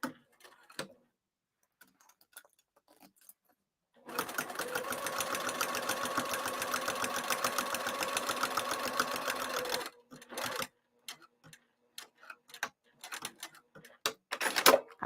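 A sewing machine stitching a cross body bag runs in one steady, continuous rapid burst for about six seconds, framed by quiet stretches with scattered clicks and handling noises before and after.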